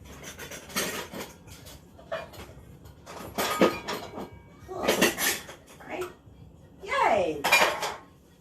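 Measuring cups, dishes and utensils clatter and clink in a kitchen while a pound cake is baked, coming in several separate bursts of rattling and knocking with short pauses between them.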